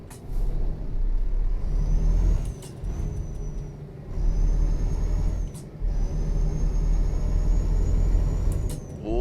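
Truck air brakes in Euro Truck Simulator 2 multiplayer, fitted with a new ABS brake system, release several sharp hissing bursts over a steady low engine rumble, each hiss cutting briefly through the drone.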